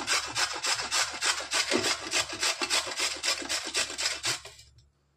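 Radish being grated by hand in a home kitchen: a close, rhythmic rasping scrape repeating in quick strokes for several seconds, then stopping abruptly.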